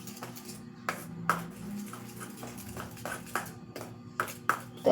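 A spoon stirs homemade ice cream premix in a bowl, making a string of light, irregular clinks and taps against the side over a steady low hum.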